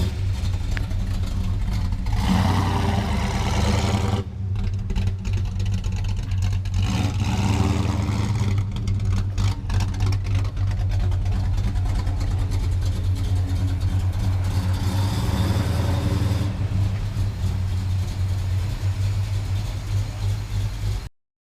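Cars being moved near a garage at a barn find of a Ford Capri 3.0S, engines running throughout with low steady rumble, idling and occasional revving, fairly close, no talk.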